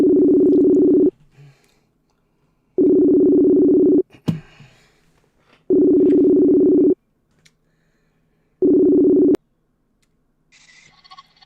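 Four long, steady electronic ring tones of a phone call repeat with even pauses between them, loud and clean, with faint clicks and light noise in the gaps during a live charity stream.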